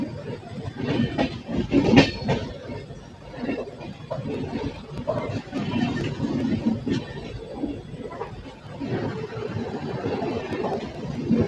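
The Raxaul–Narkatiaganj summer special passenger train runs on the rails toward Sikta station with a steady rolling rumble and rhythmic wheel clatter throughout, heard from on board.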